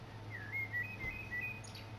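A wild bird calls with a series of thin, rising and falling whistled chirps, faint and somewhat distant over a steady low hum, with no talk.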